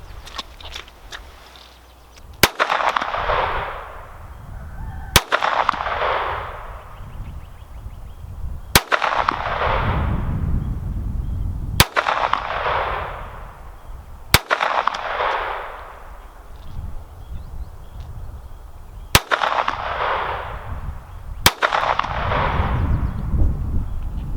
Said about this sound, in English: You know what I need to do is take a shot at the 100-yard target.